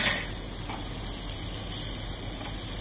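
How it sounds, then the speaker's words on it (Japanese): Daikon radish browns in a frying pan that just seared yellowtail, giving a steady, even sizzle that stays moderately quiet and continuous with no talking. "大根もよく焼き色をつけておきます。"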